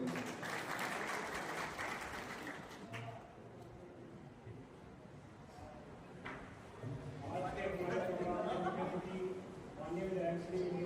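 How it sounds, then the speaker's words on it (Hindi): Audience applause at a local government gathering welcoming a state legislator, a broad wash of clapping rising and falling over about eleven seconds, with voices and crowd murmur mixed in. "तालियों की कमी नहीं।"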